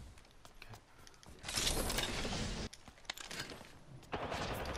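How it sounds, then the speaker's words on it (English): Rapid video game gunfire rattles in dense bursts, with a loud sustained volley in the middle and sharper shots around it, fairly close and without talk over it. "Listen up, I'm getting shot at."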